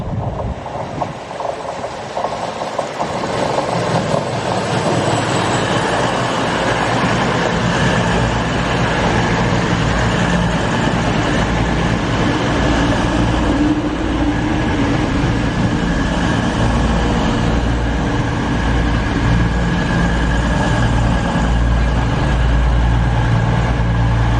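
A passenger train rumbles past close by, a loud sustained roar of wheels and carriages with steady rail clatter throughout.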